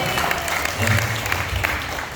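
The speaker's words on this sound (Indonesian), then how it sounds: "Tepuk tangan buat Pak Soleh" A group claps for Pak Soleh at a therapy testimonial gathering, a brief, busy patter of hand claps with a low murmur of voices and background hum beneath it.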